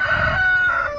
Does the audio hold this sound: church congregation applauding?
no